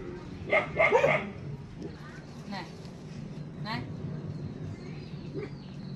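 A dog barks a few quick times near the start, then faint yips follow over an indoor room background while people talk.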